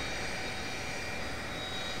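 Aircraft engine spooling up in a Roblox flight game, a steady dense whine and roar with a thin high tone, continuous and fairly loud with no talk.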